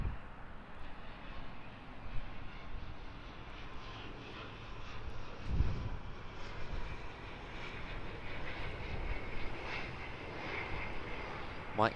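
An ATR 72-600 turboprop airliner at Auckland airport gives a steady, broad engine roar for the whole stretch, moderately loud and fairly constant, with a slight swell near the middle and no voices.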